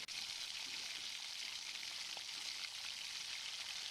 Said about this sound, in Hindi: 1 से 2 मिनट हम एक साइड से फ्राई करेंगे और फिर दूसरी साइड से फ्राई करेंगे।